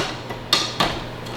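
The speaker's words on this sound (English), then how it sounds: "Into the food processor it goes. In the second one goes." Two onion halves drop one after another into a food processor bowl, each landing with a sharp, close knock a fraction of a second apart, with no talk.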